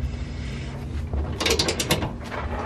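A wrench ratchets on a bolt during camber adjustment on a Honda S2000, giving a run of close mechanical clicks that grows busier midway over a steady low background rumble.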